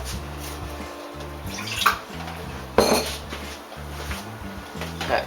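Water swirled in a cup to rinse out leftover cornmeal at a kitchen sink, with clinks of dishes and a splash, close and moderately loud, lasting a few seconds without talk.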